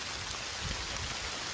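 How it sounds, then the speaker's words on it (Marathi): Heavy rain pours down in a dense, steady hiss, close and continuous with no pauses. "फुल पाऊस आला छान जोरात पाऊस आला"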